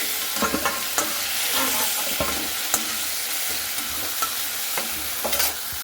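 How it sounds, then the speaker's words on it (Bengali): Chicken pieces fry in hot oil in a kadai while being stirred, giving a steady close sizzle broken by scraping and clacking stirring strokes throughout, with no one talking. "আর এখানে দেখুন চিকেনটা কিন্তু একটু ভেজে নিতে হবে 2-1 মিনিট।"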